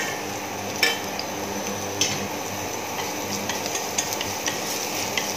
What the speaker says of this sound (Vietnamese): Mình cho một ít tỏi băm vào cho nó thơm lên.